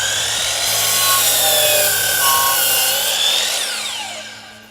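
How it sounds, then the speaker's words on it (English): Chop saw cutting through a square flex column panel, a loud sustained high whine as the blade bites, steady through the cut and then winding down as the motor slows at the end. "So let's go to the chop saw and get this cut."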